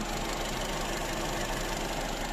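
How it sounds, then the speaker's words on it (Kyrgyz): Idling 1.6-litre engine of a 2016 Skoda Octavia sedan, a steady close mechanical hum with a faint knocking texture, running alone without speech. "Мотор жагы жакшы, оталып турат."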